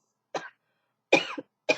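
Three short, dry coughs from a person getting over a cold sound close up, separated by brief silences.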